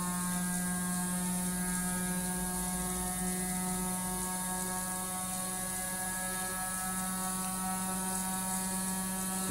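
A battery-powered gyroscope motor whirs steadily while spinning up to speed, a close, constant mechanical hum with layered whine tones and no speech.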